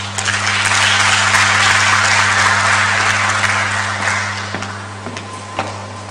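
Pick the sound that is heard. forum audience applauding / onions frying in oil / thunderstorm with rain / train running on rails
forum audience applauding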